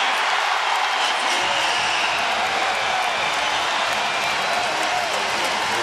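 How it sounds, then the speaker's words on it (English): Loud, dense cheering and applause from a basketball arena crowd during the 2011 Postseason WNIT championship game between USC and Toledo, a steady roar that swells and holds throughout. "the crowd is on it. They are going crazy."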